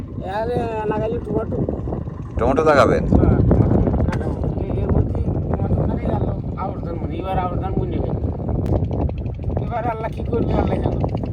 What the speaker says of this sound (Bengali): মাঝে মাঝে বৃষ্টি হচ্ছে বাতাস হচ্ছে